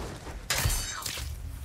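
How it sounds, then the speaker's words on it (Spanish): Short crisp shattering crack of a knife breaking in Resident Evil 4 Remake, a sharp burst with a dull low thud beneath and a second bright snap just after, over game background noise. "Ya se rompió el cuchillo."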